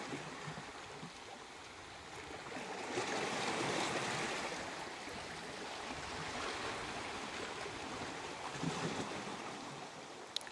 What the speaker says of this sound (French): Je vais arrêter de filmer la mer.